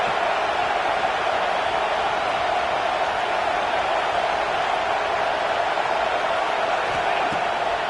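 A football stadium crowd at a game against Arkansas makes a steady, dense roar that holds at an even level throughout, with no clear peaks or breaks.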